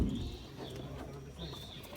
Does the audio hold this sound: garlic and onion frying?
no